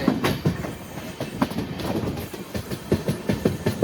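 A passenger train bound for Tirupati rattles along the rails, its wheels beating out a steady clickety-clack rhythm at moderate volume, with no voices.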